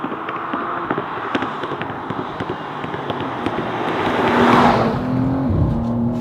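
A US-spec BMW M2 G87 engine rumbles from inside the cabin, partly piped in through the speakers, with a steady drone that swells toward the end as the revs rise.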